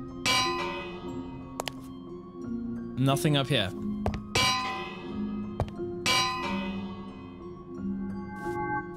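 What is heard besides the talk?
village bell ringing in video game Minecraft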